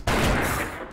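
A single loud, booming gunshot in Darkest Dungeon, a sudden blast with a short decaying roar that fades within a second.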